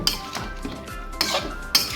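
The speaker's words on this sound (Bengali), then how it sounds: "আলু ভাজাগুলো পুরো মাখিয়েও নেব" Fried potatoes being mixed into meat in a cooking pot make a few sharp metallic clinks and scrapes of a spoon against the pot, irregular and close.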